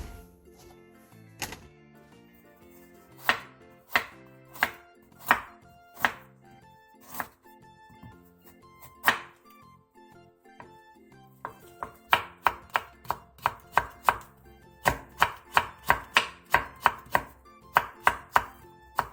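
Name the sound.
knife cutting burdock root into thin julienne strips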